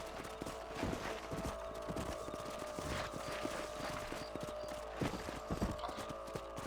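Steady hoof clip-clops of horses at a walking pace in the video game Red Dead Redemption, over a constant background hum, with no voices.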